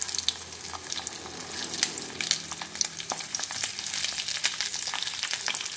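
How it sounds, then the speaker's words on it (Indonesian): Steady crackling sizzle of tongkol (tuna) frying in hot oil, with small pops and spatters throughout, close up and continuous. "Lalu ikannya kita goreng ya."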